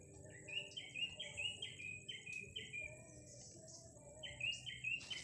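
Birds chirping in a backyard, repeated bright tweeting calls in quick short bursts, fairly close, with a faint insect-like buzz underneath and no talking.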